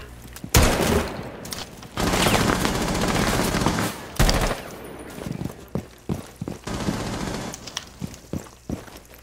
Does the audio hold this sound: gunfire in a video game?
yes